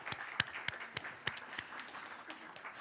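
A conference audience at a Sami culture policy summit claps sparsely, with scattered individual hand claps at moderate distance over a few seconds.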